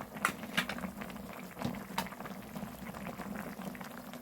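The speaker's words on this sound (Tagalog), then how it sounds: "So, hintayin pa natin kumulo yan." A pot of kimchi jjigae with onion simmers, giving soft bubbling and gentle popping at low volume, with a few brief clinks.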